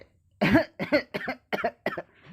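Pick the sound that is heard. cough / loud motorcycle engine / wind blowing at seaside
cough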